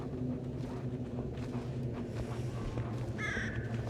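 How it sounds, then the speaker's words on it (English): A crow caws several times in the snowy wilderness of the survival game The Long Dark, harsh calls standing out over a steady low ambient wind and game hum, with no voices. "Oh, I was supposed to scare the crow."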